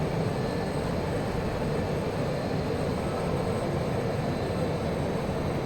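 A variable-geometry jet plane in a flight simulator game, FSX or DCS, produces a steady, loud engine roar that stays constant in the cockpit with no talking.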